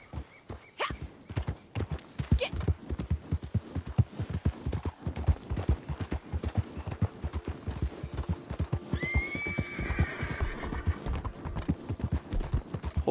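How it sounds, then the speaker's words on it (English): A horse in the Red Dead Online video game clip-clops along with steady, rhythmic hoofbeats throughout, and partway through it lets out a loud whinny over the hooves. "Horse sounds like it needs some hay."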